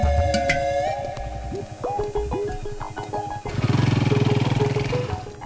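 A motorcycle stolen by a thief starts up nearby and is ridden away, its engine sputtering and rising in pitch, then revving loudly and steadily as it pulls off, with no talking.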